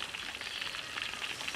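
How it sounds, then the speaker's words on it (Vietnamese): Wontons deep-fry in hot oil with a continuous bright sizzle and crackle, steady and close, with no talking. "số bánh mình chiên đợt 2 cũng đã vàng, cũng đã chín rồi nè"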